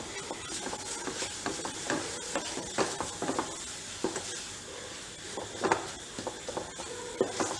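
Mawa and pistachios roasting in a pan while being stirred: irregular scraping and clinking strokes of a spoon against metal, with a soft background sizzle, close and moderately loud, no speech.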